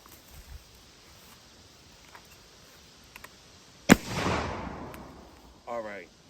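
A single sharp blast from a Belgian muzzleloading shotgun fired at clay targets rings out amid quiet outdoor surroundings, followed by a trailing rumble, with a brief voice later.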